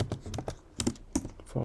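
Quick bursts of keystrokes on a Mac keyboard as a folder path is typed, crisp close clicks in an uneven patter, clear with no voice over them.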